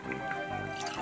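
Water poured into a homemade Halloween potion, a short bright trickle and drip of liquid lasting about a second, close and fairly quiet.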